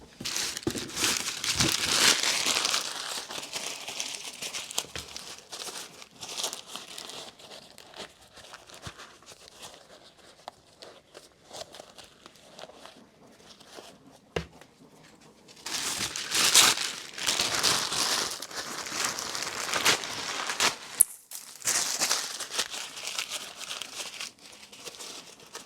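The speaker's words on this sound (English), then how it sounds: "stuffing the shoes full of paper like this is basically just going to help keep the shape of the shoe" Paper crumpled and stuffed into Nike Panda Dunk sneakers, close crinkling and rustling in two long busy stretches with a quieter, sparser middle section.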